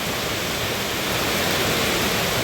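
Steady broadband rush of falling rain and running water, even and loud without pause, with no voices over it.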